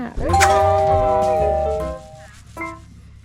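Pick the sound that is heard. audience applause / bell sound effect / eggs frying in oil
bell sound effect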